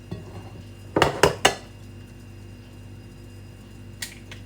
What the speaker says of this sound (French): vous allez prendre un saladier et on va venir casser les œufs